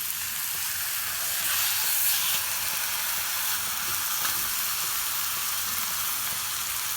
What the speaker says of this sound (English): I'm browning my chuck roast